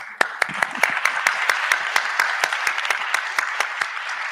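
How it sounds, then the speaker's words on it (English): Audience applause, a burst of steady clapping from a crowd gathered at a drinks event, loud and close, with sharp individual claps over a dense wash of hands. "I think we can do a round of applause for that"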